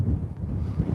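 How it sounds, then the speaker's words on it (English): Wind gusting across open ground by an obelisk in Phoenix Park, a large walled park, producing a low, rumbling buffet against the microphone that stays steady throughout. "Wow, it's really windy over this part."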